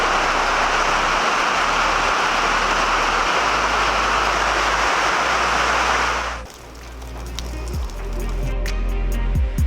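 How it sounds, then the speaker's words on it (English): A torrential downpour roars as dense, loud broadband hiss for about six seconds, then abruptly drops away to quieter scattered patter and thumps. "and then torrential downpour."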